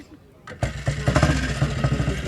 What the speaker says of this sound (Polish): chciałabym usłyszeć y, ryk silnika Junaka